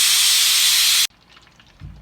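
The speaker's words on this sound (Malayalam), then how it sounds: "കുക്കർ തുറക്കാം" A pressure cooker holding chicken vents steam as it is opened: a loud, close, rushing hiss for about a second, then abrupt quiet with faint clatter.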